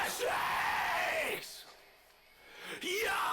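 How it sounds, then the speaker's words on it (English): Rock band vocalist screams in a studio song recording, two sustained loud yells separated by a brief quiet gap. "Bit of screaming."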